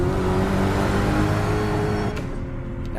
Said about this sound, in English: It's a British supercar with a V8 producing 600 horsepower.